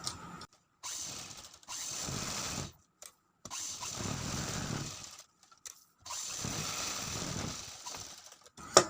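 Sewing machine running in several bursts as it stitches a joined straight buckram strip onto a full-sleeve piece, each run a steady close mechanical whir separated by short pauses, no talking.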